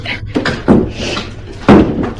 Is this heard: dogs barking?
no